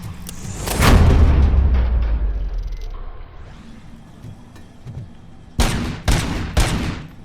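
Gunfire in RoboCop: Rogue City: a loud burst of rapid shots opens, fading into a low rumbling tail, then three more sharp shots crack out near the end.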